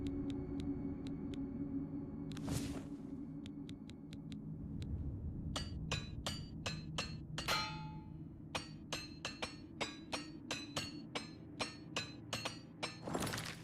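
Repeated metallic hammer strikes from repairing armor in Oblivion Remaster on PS5, first a few sparse clinks, then a steady rhythmic run of about fifteen sharp ringing taps over a low game hum.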